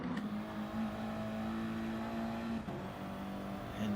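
Audi TT race cars on the Dragon Trail circuit in a racing video game, a steady droning engine hum with a sustained pitch held at high revs, a brief shift near the middle, close and continuous with no talk.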